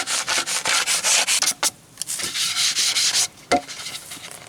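A plywood beehive board is scraped clean with a piece of plastic in quick, rhythmic rubbing strokes, loud and close, with a couple of short pauses and taps between bursts.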